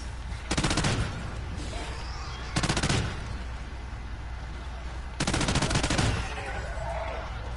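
Three bursts of automatic gunfire from a PS4 video game, fired at bombers overhead, each rapid stream of shots lasting under a second, spaced apart over a steady background hum of game ambience.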